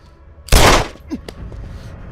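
A single loud, sharp gunshot-like blast rings out with a short reverberant tail in a Bollywood action movie scene, followed by a few faint thuds.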